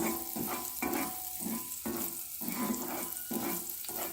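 Food sizzles in a pan before eggs and black-eyed peas go in, a steady frying hiss broken by rhythmic scraping strokes of a utensil stirring about once every half second, close and moderately loud with no talking.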